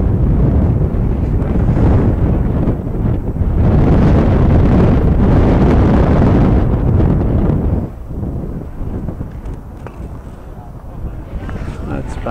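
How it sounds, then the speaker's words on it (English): Gusting wind buffets the microphone at an outdoor high school baseball game, a loud, continuous rumbling roar that swells and eases over several seconds, with voices talking faintly underneath. "That wind certainly is gusting."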